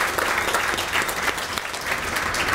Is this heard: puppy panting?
no